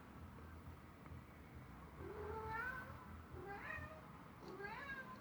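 A domestic cat meows three times in succession, rising then falling, fairly faint against a low background hum in a quiet indoor room.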